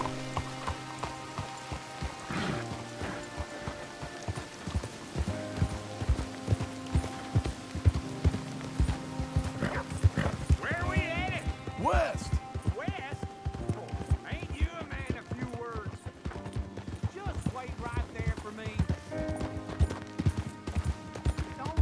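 Hooves clip-clop steadily from a galloping horse in Red Dead Redemption 2, a fast continuous rhythm running under game music and ambient noise for the whole stretch, with voices talking over it.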